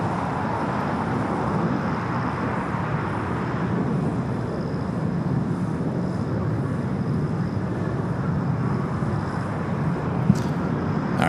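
An airliner landing at LAX on runway 25 left makes a steady, loud broadband engine roar that holds at an even level throughout, with no voices over it.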